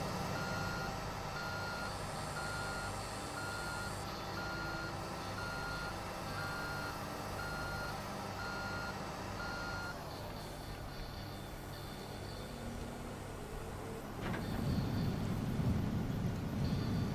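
A truck in the video game Construction Simulator 2 backs up with a steady train of reversing beeps over a loud, constant engine rumble, and the engine swells louder near the end.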